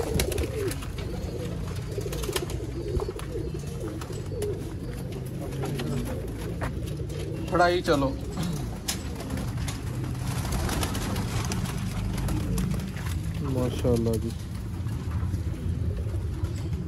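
Soft pigeon cooing and bird calls sit over a steady low rumble, with a voice briefly talking partway through.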